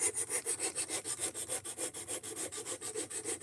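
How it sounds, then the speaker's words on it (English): Knife blade being ground to hog off material: rapid, even back-and-forth scraping strokes, about seven per second, close up and steady, with no voices. "Right now I'm trying to hog off material until I can feel a burr form"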